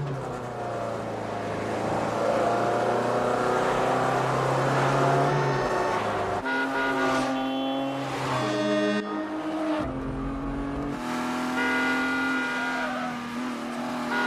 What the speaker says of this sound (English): that's the BMW vs Peugeot scene from John Frankenheimer's 1998 film Ronin.